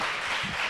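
An audience at a United Nations event for the International Day for People of African Descent claps together, a brief, steady wash of hand claps at moderate loudness with no voices over it.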